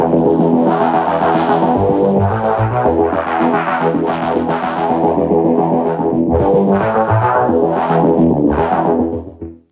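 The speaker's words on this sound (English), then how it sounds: "I'm gonna bring up the wet distortion knob" Arturia MiniFreak synthesizer running its vocoder with the wet distortion effect turned up, producing a loud, dense, buzzing processed tone that sustains steadily throughout and cuts off abruptly at the end.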